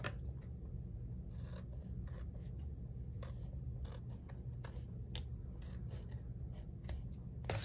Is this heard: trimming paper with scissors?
yes